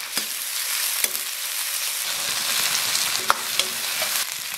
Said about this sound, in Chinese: 锅里少留一点油，下入葱姜蒜，煸了煸